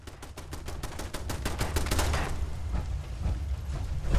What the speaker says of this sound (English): Ooh, turret.